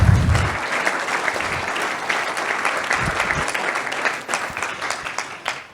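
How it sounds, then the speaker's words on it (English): An audience gives a round of applause for a panel at an insurance agency management systems showcase, a dense burst of clapping that gradually thins out toward the end. "So give everybody a round of applause for our panel."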